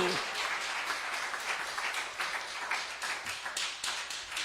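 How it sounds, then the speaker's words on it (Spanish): Church congregation applauding loudly during a Spanish-language sermon, a sustained wash of many hands clapping with a few sharper taps, fairly close and steady throughout. "Alguien aplauda fuerte a la roca inconmovible de los siglos, que es Cristo el Señor."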